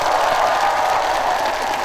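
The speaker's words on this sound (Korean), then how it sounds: "큰 박수 한 번만 주시겠어요?" An outdoor crowd at a community arts festival in Angang applauds for a singer, giving a brief, dense wash of clapping and cheering at steady loudness.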